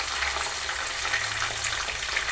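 Dried red chillies and curry leaves fry in a hot oil tempering, giving a steady close crackling sizzle with scattered small pops throughout.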